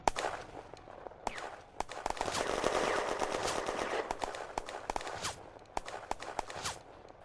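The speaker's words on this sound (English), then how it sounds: "His section is under crossfire." Crossfire on Hill 112 in the Firefight video game's May 1940 battle: rapid, scattered gunshots and machine-gun bursts crack in irregular volleys over a dense background of distant firing.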